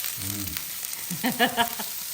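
Chopped onions with red and green peppers sizzle steadily in a hot pan in a home kitchen, a constant close frying hiss while someone briefly speaks over it.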